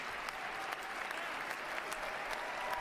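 A large audience applauds a speech on executive orders, a dense, steady wash of clapping with sharper individual claps popping out, sustained and even throughout with no voices.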